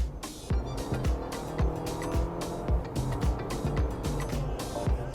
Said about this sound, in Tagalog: the engine, the 2-liter VTEC engine sounds really good